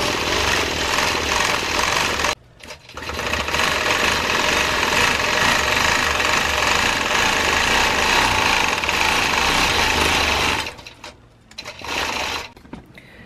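A sewing machine runs loud and steady for about ten seconds, stitching loops over existing seams on a fiber-art quilt, then stops and restarts briefly near the end.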